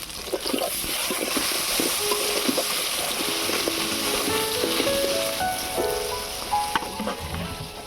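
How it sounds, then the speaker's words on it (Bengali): Steady oil sizzling and crackling as pieces of taro fry in a pan, with occasional stirring clatter and spatters throughout. "কচুটাকে ভালো করে ভেজে নেব"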